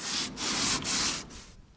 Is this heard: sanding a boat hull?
yes